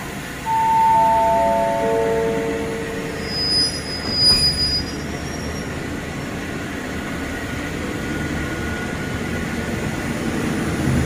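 A train runs on rails near Ban Pong station in Thailand, its wheels letting out several high squeals early on over a steady, fairly loud rumble of rolling stock that carries on to the end.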